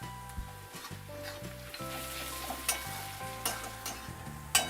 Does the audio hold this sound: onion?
yes